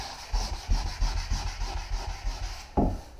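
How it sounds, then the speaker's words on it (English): Rhythmic rubbing and sanding strokes across a car body panel during home paint prep, close and steady, about a dozen passes ending in one sharper scrape. "That's why I do a bit of sanding, rub my hand over it and feel it."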